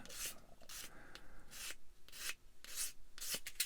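Sandpaper rubs a tiny plastic part from a Bandai Star Wars 1/144 AT-AT model kit in quick, quiet back-and-forth strokes, a soft rhythmic scratching up close with no talk.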